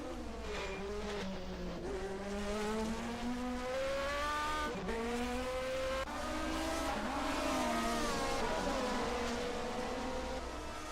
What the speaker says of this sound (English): Ford Escorts.